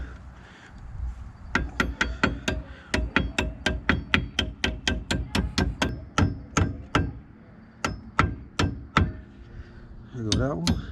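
Close, sharp hammer blows driving new front brake pads into place on a Dodge Scat Pack, Daytona 392 or Hellcat, about two dozen strikes in a steady, fast rhythm with brief pauses, then a short burst of another noise at the end.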